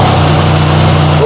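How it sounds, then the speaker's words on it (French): A BMW R1300 RS motorcycle engine runs at a steady loud idle close by, a constant low hum with no revving, while a person speaks over it. "je vais vous mettre en route la moto"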